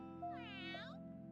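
A voice actor imitates a cat with a single drawn-out, wavering meow for the Date Everything video game, close and clear over a steady low background hum.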